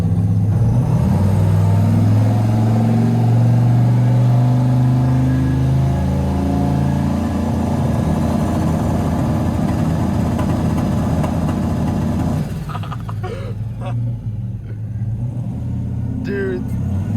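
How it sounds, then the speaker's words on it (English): A turbocharged LS-powered street truck on a two-step, with a loud, rough, burbling engine held up close and a steady drone that drops off near the end, while people talk over it. "it sounds so much more rowdy on the two-step"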